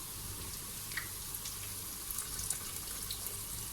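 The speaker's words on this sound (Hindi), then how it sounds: "अब हम इसमें पानी शामिल कर देंगे" Water pours steadily into a cooking pot of simmering masala for a potato and mongray curry, a soft continuous splashing trickle heard close with no voices.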